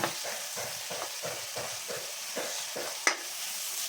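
Onions frying in a pan for a clam meat fry with curry leaves and ripe bird's eye chilies, stirred in a steady rhythm of scraping strokes over a constant sizzle, with one sharp clink near the end.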